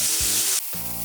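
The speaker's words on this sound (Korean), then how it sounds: "이 상태에서 이제 오징어 넣어줍니다. 오징어 넣고 오징어가 색깔이 변하게만 볶아주세요." Squid stir-fried with onion and soy sauce in a hot pan, a loud close hiss that drops off abruptly then returns more steadily, with no voices.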